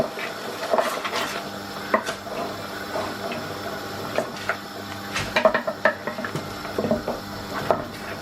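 A spoon stirs flour into gravy in a pan for a chicken and mushroom pie, giving soft scraping and clinking against the pan in an uneven, steady rhythm, close and moderately quiet, with no talking.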